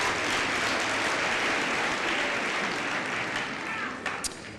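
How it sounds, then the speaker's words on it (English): Audience clapping at a graduation ceremony, a dense, steady wash of applause that holds loud for about four seconds, then thins as a few final claps trail off. "Another clap for funders."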